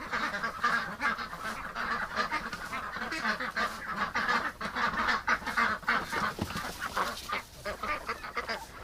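Several ducks at a rescue setting honk and quack in rapid, overlapping bursts, close and fairly loud, a busy chorus of calls with no talking.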